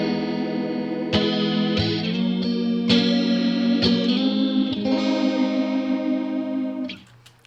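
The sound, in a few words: guitar modulation effect in Helix Native, adjusting range knob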